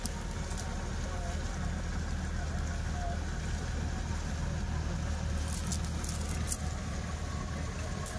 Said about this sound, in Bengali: ওই দেখো কত কাজ দিয়ে একটা টুরিস্ট বোট যাচ্ছে না